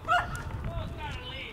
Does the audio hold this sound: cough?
no